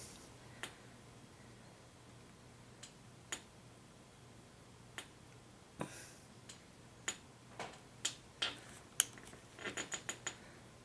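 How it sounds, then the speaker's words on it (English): Ratchet wrench back-ratcheting while adjusting a Cypres parachute closing loop, sparse sharp clicks spaced apart, then quickening into a rapid cluster near the end, close and quiet against a faint hum. "I'm going to have to back ratchet here"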